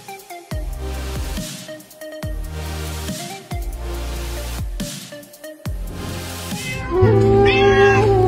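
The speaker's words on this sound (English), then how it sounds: "He stopped to save this little kitten." A little kitten meows repeatedly in a steady series of loud, close cries over a low rumbling background, with a higher, more strained wail near the end.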